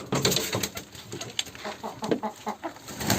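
Chickens and quails in a coop give a flurry of short, close clucks and chirps in uneven bursts, with no talking.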